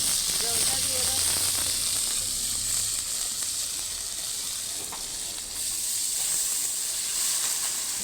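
Water poured onto hot ground spice paste of ginger, cumin, turmeric and chili in a pan sets off a strong steady sizzle and hiss that runs the whole time and dips briefly near the end, with faint voices in the background.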